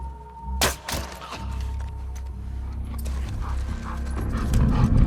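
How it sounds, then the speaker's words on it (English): Dog in The Last of Us Part 2: close, sharp barks near the start over a dense rumbling game background of scuffles and movement that swells toward the end, with no speech. "Dog."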